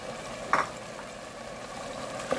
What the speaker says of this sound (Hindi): और अब हम इसमें ऑयल डालेंगे।